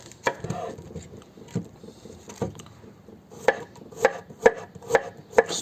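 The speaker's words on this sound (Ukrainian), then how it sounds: "приступаємо до нарізання капусточки на колслоу." A knife chopping cabbage for coleslaw on a wooden board, irregular at first, then settling into steady, crisp, crunchy cuts.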